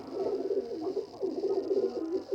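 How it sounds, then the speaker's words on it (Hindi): A Lakha-coloured female pigeon with feathered feet coos in soft, repeated rolling phrases, close by and fairly quiet, with no talk over it. "ये लाख ही है कबूतरी, इसका कलर लाख है"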